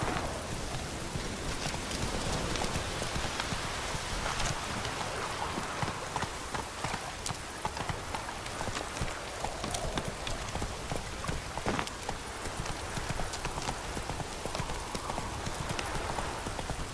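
Hooves of a horse in The Witcher 3: Wild Hunt clip-clop in a steady, continuous rhythm throughout, close and clear with faint ambient game noise underneath.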